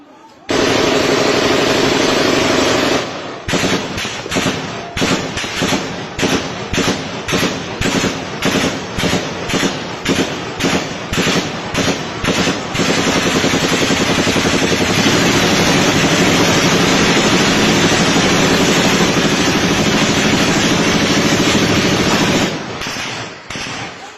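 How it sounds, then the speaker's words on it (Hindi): Rapid bursts of gunfire, some from heavy guns, crack through a chaotic night scene, loud and dense with repeated volleys over a continuous roar, then cut off abruptly near the end. "उसके अंदर आपको बाकायदा गोली चलने की आवाज़ सुनाई देगी"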